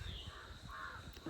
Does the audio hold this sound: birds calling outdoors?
yes